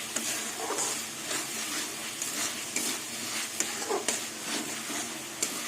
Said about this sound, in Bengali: মশলা দিয়ে ডাল কষানো হয়ে গেছে এবার জল দিয়ে দেবো